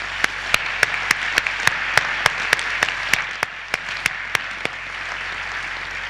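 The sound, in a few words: audience applause for family and friends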